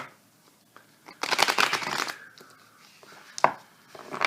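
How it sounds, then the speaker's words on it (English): Tarot cards riffle-shuffled in a few quick bursts, a long flurry of crisp flapping followed by shorter shuffles, close up with no talking. "Let's give a shuffle really quick."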